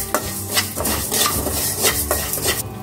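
Scraping and stirring curry leaves in a metal pan with a steady crackling sizzle as they dry roast, continuous and close, no voices.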